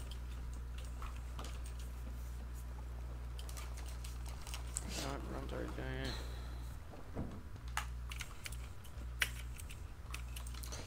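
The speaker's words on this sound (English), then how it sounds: "that's the most obnoxious clicking I've ever heard" Obnoxious rapid clicking from a computer keyboard rattles over a steady low hum during a Sea of Thieves rowboat session, with people talking partway through.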